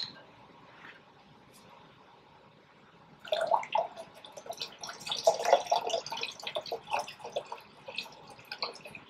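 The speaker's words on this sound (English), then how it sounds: "I'm gonna add about 1 cup of water to it" Water pours into tomato detox juice in a Ninja blender, a splashing, trickling stream that begins after about three seconds of near quiet and continues unevenly to the end.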